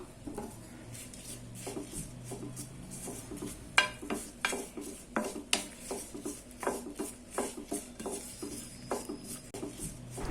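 Torn betel leaves are roasted in a pan, with a faint sizzle under a run of dry scrapes and clinks as a spoon stirs them against the metal, close and fairly quiet.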